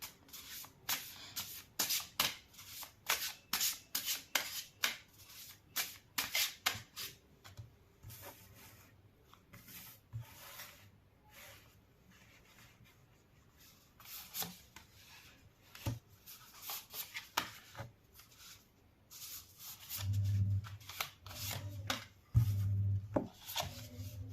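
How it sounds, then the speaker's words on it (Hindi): Tarot cards being shuffled and drawn, giving a rapid series of crisp riffling and slapping card sounds in bursts, with softer sliding and rubbing between them and a few duller thumps near the end. No one speaks. "पहले कार्ड्स निकाल लेती हूँ"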